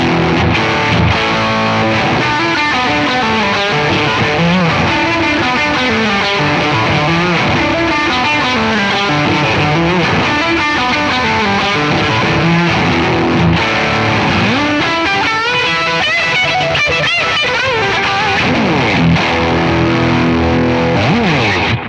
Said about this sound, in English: Here are some fuzz tones.